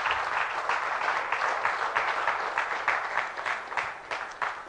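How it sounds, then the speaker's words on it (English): A church congregation claps together in praise, a loud, continuous burst of many hands with a slightly rhythmic pulse that gradually thins toward the end. "Give the Lord a hand clap of praise."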